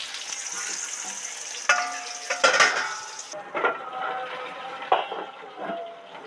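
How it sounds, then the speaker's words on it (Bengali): Onions fry in a pan with a soft sizzle, while a spoon clinks and scrapes against the metal several times up close. "পেঁয়াজগুলো সব সব করে ভাজা হয়ে গেছে দারুণ ফ্লেভার বেরিয়েছে"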